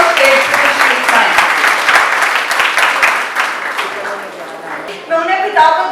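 An audience at a May Day rally for domestic workers claps in loud, sustained applause, close and dense, easing slightly before swelling again at the end as a voice speaks over it.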